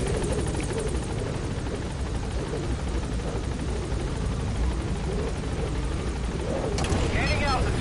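A military helicopter in a Metal Gear Solid V mission climbs away from a landing zone, its steady rotor chop and turbine roar continuous and loud, with a voice speaking over it and a brief sharper noise near the end.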